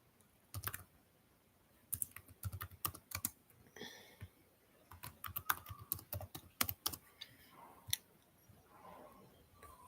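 Someone types a name on a computer keyboard, producing soft, close keystroke clicks in irregular bursts with brief pauses between words.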